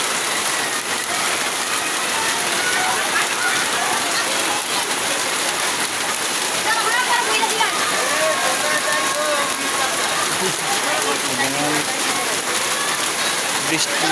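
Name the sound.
heavy rain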